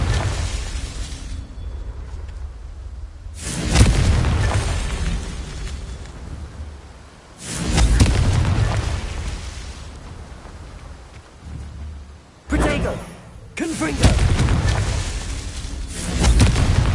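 Repeated Confringo fire-spell explosions in the video game Hogwarts Legacy, several loud booming blasts in succession with rumbling tails and short gaps between them, no talk.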